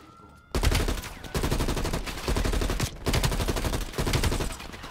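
Sustained automatic gunfire in Call of Duty: Black Ops Cold War, loud and close, coming in repeated long bursts separated by brief pauses, with no voice over it.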